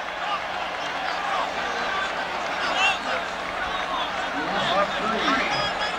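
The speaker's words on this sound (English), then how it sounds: "The crowd gets restless again" Stadium crowd at an NFL game, Minnesota at Chicago in 1993, a steady dense murmur of thousands of fans with scattered shouts swelling in places, heard under a commentator's voice.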